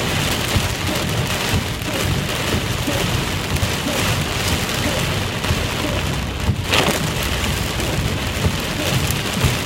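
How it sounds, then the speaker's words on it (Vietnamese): Hail pelting down in a heavy storm with thunder on a flooded road, a loud continuous hiss and clatter filling the scene, with a brief surge partway through and no voices. "Kìa mưa đá nè, đường đá không nè."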